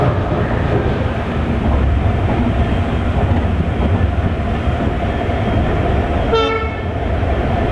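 A train pulls into Latur Road Junction with a loud continuous rumble and rattle close by, and a brief horn sounds near the end.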